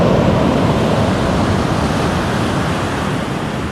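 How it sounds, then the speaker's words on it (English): Steady roar of Pacific ocean surf washing onto a beach on Washington's Olympic Peninsula with the tide coming in, loud and continuous with a slight wind rush, no voices. "enjoy the sound of the waves"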